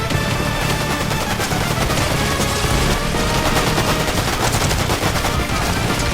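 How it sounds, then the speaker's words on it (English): Hand cannon gunfire in the Fortnite video game: dense, rapid, loud shots and blasts pile up continuously with no pauses and no talk. "I picked up this hand cannon, forgetting that my aim sucks."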